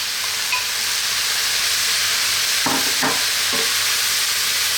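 Cold basmati rice stir-fries in a pan for vegetable fried rice, a constant bright sizzle and hiss, with a few short scraping strokes of the spatula standing out near the middle of the stretch.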